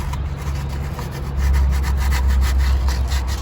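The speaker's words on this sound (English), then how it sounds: "Just gonna go ahead and sand it all the way around. Get all that rust off." Rust being sanded off the wheel bearing hub of a 2005 Cadillac Escalade AWD: a loud, close, steady rasping scrape with rhythmic back-and-forth strokes that grows heavier partway through, with no talking.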